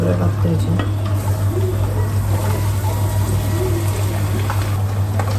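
Jaggery and grated coconut stirred together in a hot pan, a steady sizzling fry with scraping stirs, loud and continuous over a low constant hum.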